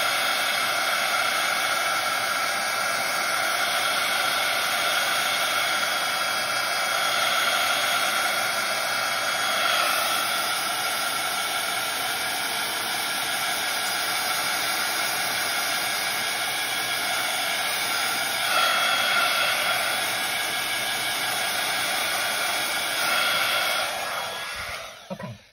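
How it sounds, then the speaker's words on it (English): Heat tool blowing a steady, loud broadband whoosh as it dries Distress Oxide ink on watercolour paper, continuous for about twenty-five seconds and cutting off at the end. "you can speed it up by using a heat tool to dry it off"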